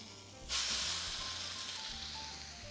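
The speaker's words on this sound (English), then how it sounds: "And then we're just going to put it right in our nice hot pan." Egg-soaked French toast laid into a hot pan, a sudden loud hiss and sizzle that starts abruptly then settles into a steady, slowly fading fry, close and alone.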